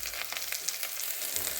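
Onion, garlic and chilli fry in a pan for a dried fish chutney, making a soft, even sizzle heard alone.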